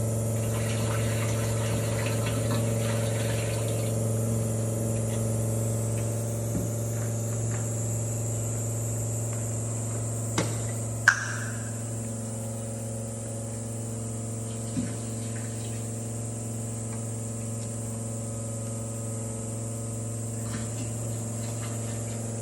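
Sprayer tank agitation pump running at 50 PSI while mixing a Bio-Aeration load, a steady low mechanical hum with a constant tonal drone, close and even throughout, with a couple of faint clicks.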